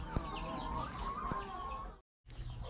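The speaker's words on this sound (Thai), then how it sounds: "ส่วนทางนี้ก็เป็นไก่ที่เฮาคัดไว้เป็นพ่อแม่พันธุ์" Egg-laying hens and breeder chickens on a farm cluck continuously at close range, with busy overlapping calls and a brief dropout to silence near the end.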